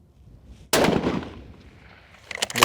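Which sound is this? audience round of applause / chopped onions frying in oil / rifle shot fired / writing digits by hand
rifle shot fired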